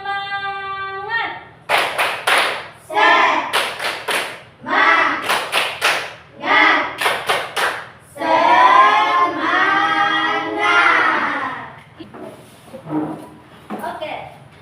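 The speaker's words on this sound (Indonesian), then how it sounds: "Tepuk semangat." A class stands and does a rhythmic spirit clap. Sharp bursts of clapping in patterned groups alternate with the students' chanting voices, then give way to quieter talk.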